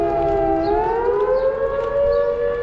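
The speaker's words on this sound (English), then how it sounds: "but the volunteer fire brigade siren is going off." A volunteer fire brigade siren wails steadily near Queenstown, New Zealand, a loud sustained civil-defence tone that slowly rises in pitch and holds, heard clearly on its own with no talking.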